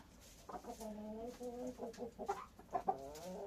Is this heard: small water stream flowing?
no